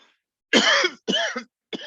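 A person coughs three times in quick succession, close to the microphone and loud, the bursts harsh and throaty with short gaps of silence between them.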